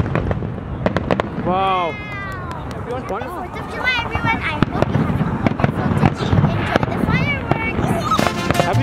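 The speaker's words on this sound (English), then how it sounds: "Enjoy the fireworks!" Fourth of July fireworks in Michigan burst repeatedly with whistling rises, sharp bangs and crackles, close and loud, while an excited crowd cheers and talks underneath.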